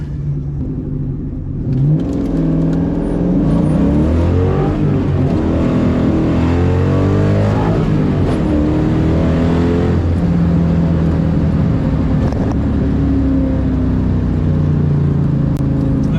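A 1997 Ford Mustang Cobra accelerates hard from 0 to 60 mph, heard from inside as a loud, continuous engine roar that climbs in pitch through the gears with brief dips at each shift.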